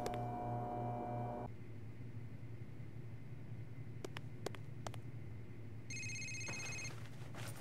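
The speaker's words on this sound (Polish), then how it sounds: "Telefon." A telephone rings in the video game Still Life: a short electronic ring near the end, quiet over a low ambient hum, after a few faint clicks.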